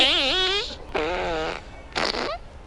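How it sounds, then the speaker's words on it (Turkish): Several drawn-out, buzzing flatulence sounds with wavering pitch come close and loud, in three separate bursts with short gaps between them. "Osurmamdan rahatsız oldun mu?"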